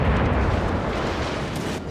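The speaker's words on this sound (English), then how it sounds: "I'll go ahead and take another shot at their battleship" Heavy warship naval gunfire booms in the World of Warships Legends game, a loud, rumbling blast that fills the moment and slowly decays.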